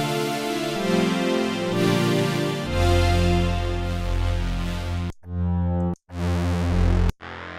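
Synthesizer strings preset in Unify, a sine-wave-based patch with wavefolding: sustained, dense chords with a deepening bass swell, then abrupt cutoffs and restarts toward the end, loud and alone.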